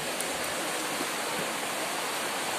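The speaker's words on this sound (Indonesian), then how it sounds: "Hujan deras." Heavy rain pours steadily on a roadside somewhere in Central Java, Indonesia: a dense, even hiss that holds constant throughout, with no voices.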